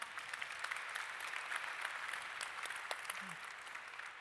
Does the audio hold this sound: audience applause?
yes